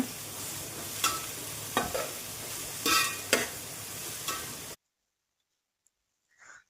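Onions sautéing in a pan with ginger, garlic, curry leaves and salt, a steady sizzle broken by several sharp scraping stirs for almost five seconds, then near silence with one faint brief sound at the end.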